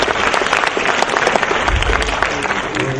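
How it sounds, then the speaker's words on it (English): A large audience applauds at an international science olympiad awards ceremony, with loud, dense, sustained clapping and some crowd noise and voices mixed in throughout. "Can I get a round of applause for the organizing team?"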